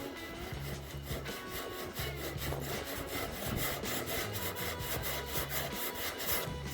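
Body filler on a car boot being hand sanded with light fingertip pressure, giving a faint, steady back-and-forth rasping in quick regular strokes, close up.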